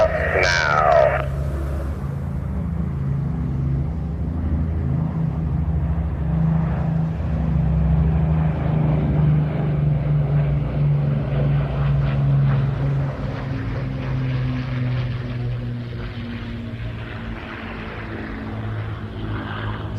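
A propeller aircraft rolls out at the Ayr air show, a loud, steady engine drone with a low, throbbing hum holding close and constant, with no talk over it.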